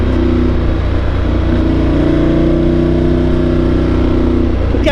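A Ducati motorcycle engine holds a loud, steady high-revving drone under throttle, close and continuous throughout, with a slight change in pitch near the end.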